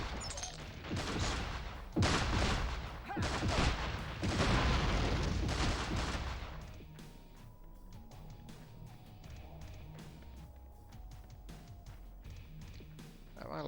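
Rapid shotgun blasts ring out in the video game Fallout: Brotherhood of Steel, with a burst of loud, booming gunfire followed by quieter scattered shots and clatter.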